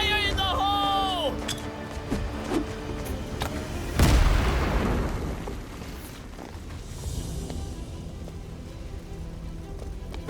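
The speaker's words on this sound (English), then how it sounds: "One more blast should do it, Giblet." Cartoon explosion blast, a sudden loud boom with rumbling roar that decays over several seconds, preceded by animated sound effects and voices.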